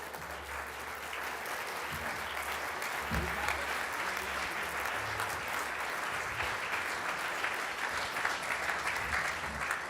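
An audience at a speaking event applauds Tucker Carlson with a steady, dense wash of clapping that holds evenly for the whole stretch, with no voices over it.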